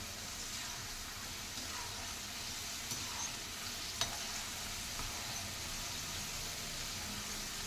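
Onion and boiled masala corn fry steadily in a pan, a constant close hiss and sizzle that runs throughout, with a couple of faint clinks from stirring and no talking.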